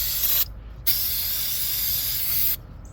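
An aerosol spray hisses loudly and close in bursts as it cleans the clutch studs of a chainsaw, with brief gaps between sprays.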